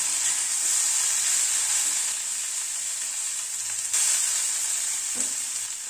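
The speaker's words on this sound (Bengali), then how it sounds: "টমেটো আর কাঁচা লঙ্কার পেস্টটাকে ফুলকপি আলুর সাথে ভালো করে মিশিয়ে একটু কষিয়ে নিলাম" Cauliflower and potato frying with tomato and green chilli paste in a pan, a steady bright sizzle running throughout with a couple of brief stirring knocks.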